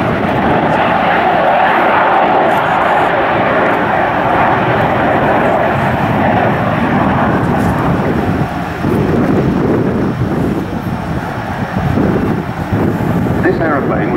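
Avro Vulcan XH558 delta-wing bomber flying past at the RIAT airshow, a loud, continuous roar of jet engines that holds steady and rumbles on for the whole stretch, with wind buffeting the microphone.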